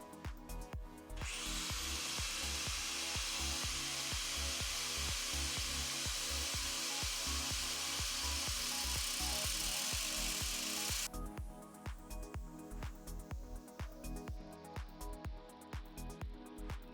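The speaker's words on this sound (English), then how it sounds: "I know I wasn't using the shield on the angle grinder" Angle grinder cutting into a steel sleeve in a transmission bolt hole: a loud, continuous high-pitched grinding hiss lasting about ten seconds that stops abruptly, with steady machine hum and clicks underneath.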